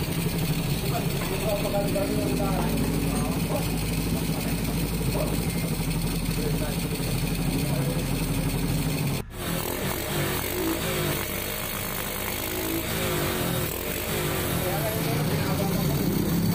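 Motorcycle engine started again after long storage on old gasoline, running steadily and loud throughout with a brief dropout midway, smoky and warming up, with someone talking over it.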